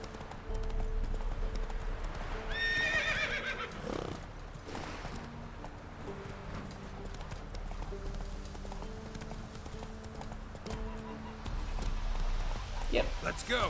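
A horse gallops with steady clip-clop hoofbeats in The Witcher 3 video game, joined briefly by a whinny, with game music and someone talking over it.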